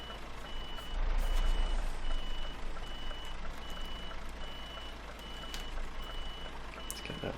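A truck in Euro Truck Simulator 2 gives a steady train of evenly spaced reversing beeps over a low engine drone while it turns its trailer, with a brief louder rumble early on.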